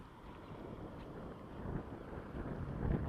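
Gusty wind buffets the microphone outdoors while fly fishing for trout, a steady low rumble that swells louder toward the end, with no talk.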